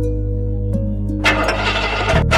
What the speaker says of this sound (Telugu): బండి స్టార్ట్ అవ్వట్లేదండి.